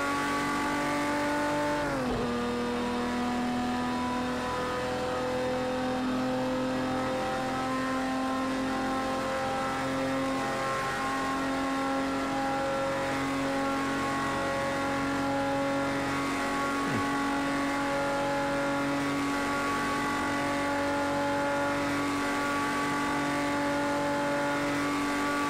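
A race car engine at full throttle in Project CARS 2, droning loud and steady at high revs after a quick gear change early on, holding a sustained tone throughout.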